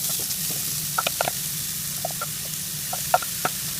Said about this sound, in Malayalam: ഇതിനെ നന്നായി വഴറ്റിയെടുക്കാം. 4-5 മിനിറ്റ് വഴറ്റിയെടുക്കണം.